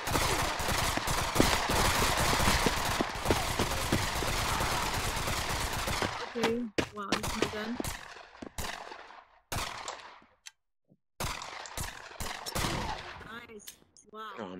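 Gunfire in the Pavlov VR shooter video game: dense, rapid automatic bursts fill the first six seconds, then give way to scattered, broken shots and short volleys with gaps between them, close and loud.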